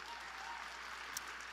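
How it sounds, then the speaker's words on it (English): Audience applause at a Martin Luther King Jr. tribute event, steady dense clapping from a crowd, fairly distant and even throughout. "Give him a round of applause."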